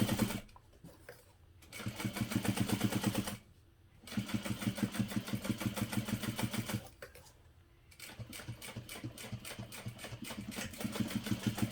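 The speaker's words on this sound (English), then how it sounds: "you can also baste the opening closed using an 1/8 of an inch seam allowance" Sewing machine basting the opening of a parachute knapsack closed at a narrow seam allowance, running in steady rapid bursts of mechanical stitching separated by short pauses.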